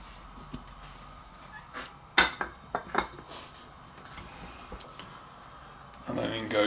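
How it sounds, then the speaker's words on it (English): A cooking pan handled on a stovetop while olive oil goes in, a few sharp metallic clanks and knocks under a person talking, then a sizzling hiss near the end. "here's my pan, and I'm just going to put some olive oil in there."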